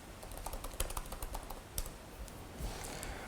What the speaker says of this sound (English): And now I can just type karma start to execute the tests.